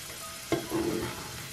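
Raisins fry in hot oil over a low flame for a raisin pickle, a soft crackle with a brief stirring clank and a short sizzling burst, close and fairly quiet.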